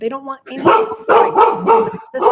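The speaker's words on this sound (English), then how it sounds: "Pardon the dogs Oh, that's barking." Dogs bark sharply in the background of a home, short repeated barks blending into a person's close, loud talking.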